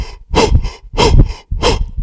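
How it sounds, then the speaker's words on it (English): Three forceful open-mouth breaths in and out during a standing breathing exercise, each a loud rushing burst of roughly half a second with brief pauses between, close to the microphone and with no talking. "you just move up and down, breathing in and out through your mouth"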